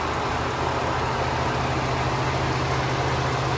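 A 2013 Ford F150 SuperCab XLT with a 3.5 liter EcoBoost engine and 110k miles idles steadily, a smooth, constant low rumble heard up close with no talking.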